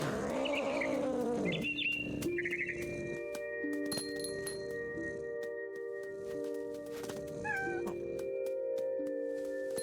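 Cat meowing in the video game What Remains of Edith Finch: several rising and falling meows, close and clear, layered over sustained ambient tones with no talking.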